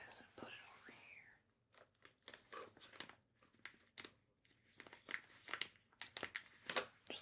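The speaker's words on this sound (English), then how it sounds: "load that into my little plastic bag over there" A small plastic bag being handled and crinkled up close in a quiet room, with a series of short sharp rustles and crackles in irregular bursts, preceded by a soft whispered voice.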